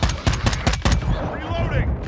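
Rapid bursts of automatic gunfire from the Warzone 2 shooter game crack out in quick succession over the first second, loud and close, followed by rumbling battle noise with voices present.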